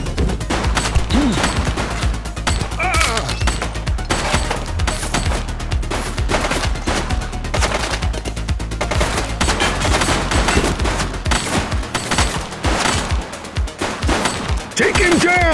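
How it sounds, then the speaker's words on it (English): Gunfire in The Precinct as a fleeing suspect in a red jacket shoots during a police chase, dense rapid bursts running nearly nonstop under music and radio voices. "He's shooting!"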